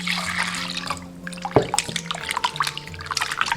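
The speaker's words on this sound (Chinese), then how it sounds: "倒入清水清洗" Clean water is poured over an eel and it is rinsed by hand, with splashing, trickling and dripping sounds that are irregular, with a sharper splash midway and no talking.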